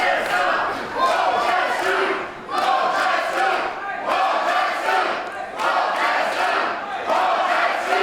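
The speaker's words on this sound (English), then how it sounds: "I think a majority, it sounds like, shouting Crowchester, but some of them in the same rhythm here, chanting War Machine." A crowd at a GWF Summer Smash 7 wrestling show chants in a rhythmic, repeated pattern of loud, collective shouts. It swells in several bursts roughly every one and a half seconds, and a commentator's voice is faintly audible underneath.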